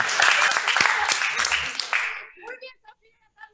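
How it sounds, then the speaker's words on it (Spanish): Applause from friends and relatives after a university architecture thesis defense, a dense burst of clapping lasting about two seconds before cutting off, followed by a few scattered voices. "Che, fue corto el aplauso."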